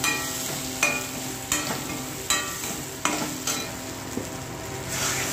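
A paste of ground poppy seed and melon seed sizzles loudly in a hot pan, with a steady frying hiss broken by several sharp scrapes of a spoon stirring against the metal.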